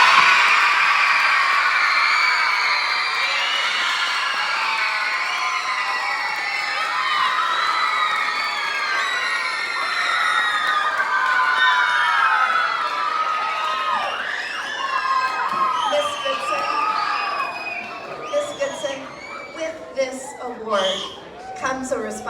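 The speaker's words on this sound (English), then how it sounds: "One more cheer for Miss Goodson" A crowd of children cheering and shouting for a teacher at an award celebration, a dense high-pitched roar that carries on, loud and sustained, then breaks into scattered whoops and yells near the end.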